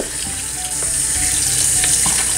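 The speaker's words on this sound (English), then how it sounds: "I like rinsing it right after" Running water splashes steadily while dyed yarn is rinsed after Japanese indigo dyeing, a close, continuous hiss with faint drips and clinks.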